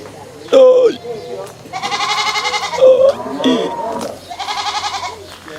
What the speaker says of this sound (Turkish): görüyorsun bak keçi tam nereye çıkmış.